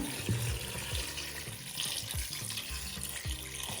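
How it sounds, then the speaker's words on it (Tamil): Water pours into a pressure cooker over raw peanuts, a steady close splashing gush with a bubbly low churn and no talking. "கடலை மூழ்கிற அளவுக்கு நம்ம தண்ணி ஊற்றணும்."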